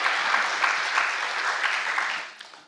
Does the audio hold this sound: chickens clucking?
no